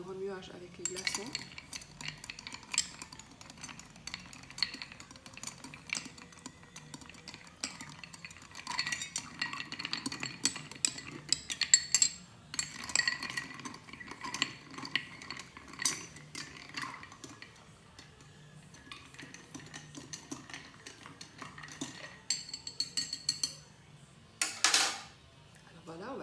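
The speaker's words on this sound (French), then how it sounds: "On va déjà commencer avec 2 glaçons, on va remuer tout ça." Cocktail being stirred with two ice cubes in a glass: irregular light clinks and scrapes of ice and spoon run steadily at close range, with a few sharper chinks and brief low voice murmurs underneath.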